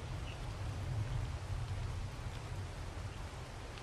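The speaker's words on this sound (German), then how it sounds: "Es regnet." Steady rain falls at a house-building site, a soft continuous hiss with a low rumble, even and unbroken throughout, with no voices.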